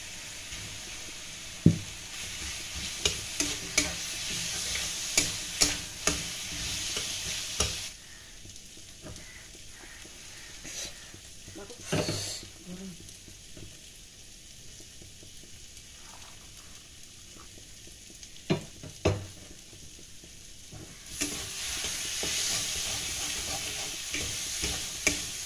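Leftover potatoes fry in a hot pan, sizzling softly while a spatula stirs and scrapes with irregular clicks and knocks, the sizzle fading in the middle and returning louder toward the end.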